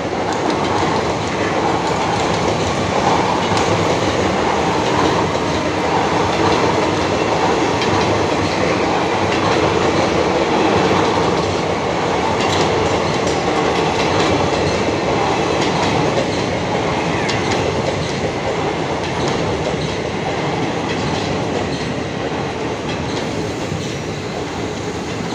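A train hauled by a WAG-9 electric locomotive with ICF coaches rolls past a railway station at Brahmapur, a loud, steady rumble with clickety-clack wheel beats throughout and no pause.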